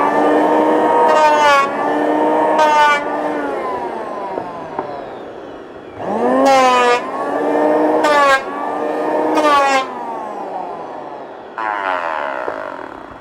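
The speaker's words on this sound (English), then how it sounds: "we're just using the planer to try and make sure we've got a nice level base" An electric planer levels chainsaw-cut chestnut wood in a series of loud, close bursts, each whining up, cutting harshly for a second or two and winding down, with short pauses between passes.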